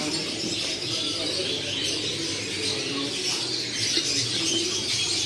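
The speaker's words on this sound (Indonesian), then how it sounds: "Banyak banget burungnya." Many caged birds at the Pramuka bird market, a dense chorus of chirps, tweets and cooing overlapping continuously against a busy market background, no clear speech.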